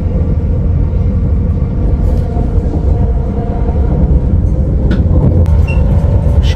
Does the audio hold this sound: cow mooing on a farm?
no